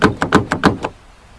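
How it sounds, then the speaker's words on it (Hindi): Six loud, rapid knocks on a wooden door in quick succession, then silence. "किसी ने इनके घर के दरवाजे पर जोर जोर से दस्तक दी"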